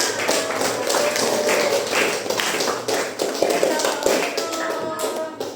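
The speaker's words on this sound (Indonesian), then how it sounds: "tepuk tangan" Classroom of students clapping their hands, a loud, busy patter of many claps running throughout, with some shuffling and murmured voices mixed in.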